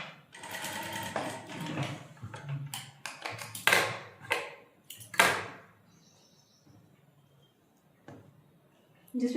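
A sewing machine runs in several short bursts of rapid stitching while joining quilt strips, with pauses between runs and someone speaking at times in between.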